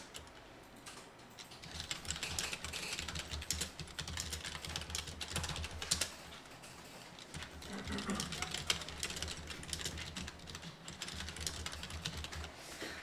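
Computer keyboard typing, rapid uneven clatter of keys in bursts with brief pauses, fairly faint and close, no speech over it.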